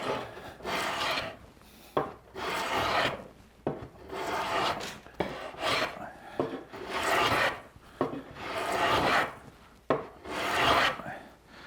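Repeated rasping strokes of a Stanley Sweetheart low angle block plane shaving elm, about ten steady passes in a rhythmic back-and-forth, close and fairly loud.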